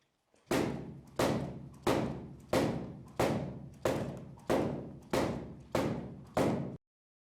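A Wushu broadsword chops a fixed training target ten times in an even rhythm, each strike a sharp, close thud that decays quickly before the next.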